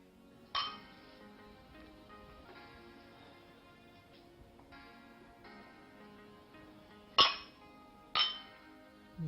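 Glasses clinking in a toast at a gathering, with a sharp ring early on and two bright clinks near the end, ringing out over quiet background noise without talk.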